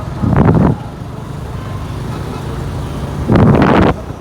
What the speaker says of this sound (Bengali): দেখেন এই যে হাইওয়ে, ঢাকা ময়মনসিংহ মহাসড়কে আছি